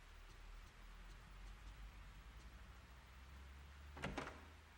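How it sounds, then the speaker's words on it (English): Soft, steady rain falls continuously in Fatal Frame 3 at a low, even level, with a brief sharper clatter near the end. "It never stops raining."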